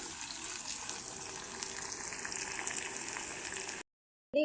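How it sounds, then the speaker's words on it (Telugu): Tempering spices frying in oil until light brown for sambar give a steady, loud sizzle for nearly four seconds. It then cuts to silence, with a brief burst of sound at the very end. "బాగా లైట్ బ్రౌన్ కలర్ వచ్చేంత వరకు పోపు అనేది వేయించుకుందాం"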